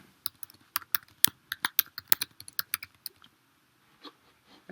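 Quick bursts of typing on a computer keyboard while writing a message, close and clicky keystrokes in uneven runs that stop for a pause before a few last taps.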